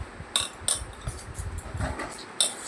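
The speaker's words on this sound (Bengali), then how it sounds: "শুকনো উপকরণগুলো একটু চামচ দিয়ে আমি ভালো করে মিশিয়ে নিচ্ছি।" A metal spoon clinks and taps against a bowl while stirring dry flour ingredients, giving a quick series of close, bright knocks and scrapes with a few louder strikes.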